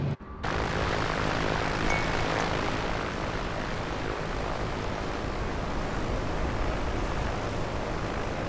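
Engine of an A2A Piper Comanche propeller plane warming up in Microsoft Flight Simulator 2024, a steady, dense drone holding constant throughout after a brief quiet start, loud and unbroken with no talk.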